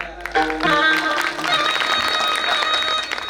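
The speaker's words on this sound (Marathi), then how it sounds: "यांच्यासाठी वाजव टाळ्या" Audience applause at a devotional kirtan gathering, a sustained wash of clapping hands that swells after a brief start and continues steadily throughout, fairly loud and close-sounding, with no clear voices over it.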